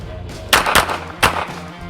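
Three sharp handgun shots ring out close by during concealed carry training at a target 7 to 10 yards away, two in quick succession and a third after a short pause.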